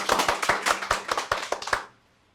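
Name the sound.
audience clapping hands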